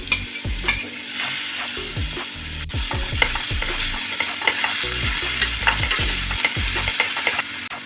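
Onion and tomato sauté in a pan with ginger garlic paste for an egg chukka, a loud continuous sizzle broken by frequent close scraping strokes of a spatula, with no talking.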